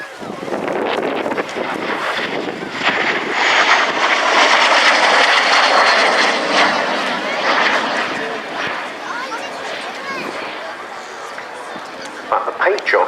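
MiG-15 jet aircraft at the 2016 RAF Cosford airshow, a sustained roaring jet pass that swells and fades over several seconds, with wind buffeting the microphone.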